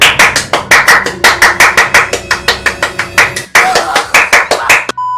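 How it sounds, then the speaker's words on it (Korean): Loud, sharp hand claps land in a fast, steady rhythm of two runs separated by a brief pause, close and crisp, ending with a short ping. "모두 박수 한번 칩시다."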